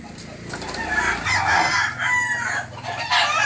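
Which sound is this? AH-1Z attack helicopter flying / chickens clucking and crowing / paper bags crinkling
chickens clucking and crowing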